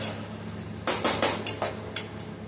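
A spoon clinks and scrapes against a pot while seeraga samba rice is stirred, giving about six or seven sharp metallic knocks in an uneven rhythm, close and fairly loud over a low steady hum.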